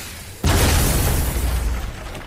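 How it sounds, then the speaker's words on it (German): A sudden loud explosion in the God of War video game, a broad booming burst that hits at once and rumbles on with a slowly fading roar. "Er ist nicht komplett explodiert."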